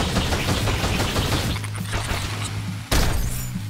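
A boss in Pepper Grinder sprays automatic gunfire, a dense rattling burst of rapid shots that thins out, then a sharp loud impact near the end followed by more clattering fire.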